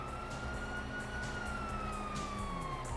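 In Grand Theft Auto V, police sirens wail in a long rising and falling tone that stays faint and distant, set against a low rumble of game background noise.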